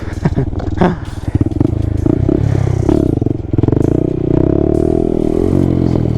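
A Honda Grom motorcycle lifts into a wheelie, its small engine droning loud and steady with rapid pulsing, close by, with clattering and scraping bursts early on.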